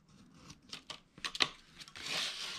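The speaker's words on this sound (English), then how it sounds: "So I am just going to cut them out." Paper card being cut with scissors to remove small rectangles from a card box template, a series of short crisp snips and crinkles, close and fairly quiet, ending in a longer rustle.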